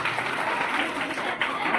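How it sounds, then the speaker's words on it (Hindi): A school Republic Day gathering in Barmer bursts into loud clapping, a brief dense burst of many hands beating close and steady with a momentary dip near the end. "एक बार जोरदार तालियां बजाएंगे"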